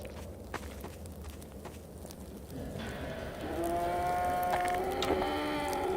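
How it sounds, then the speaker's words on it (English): A cow moos in the video game Half-Life 2 RTX, a sustained low call rising out of steady ambient game noise, moderately close and with no talk over it. "I hear a cow."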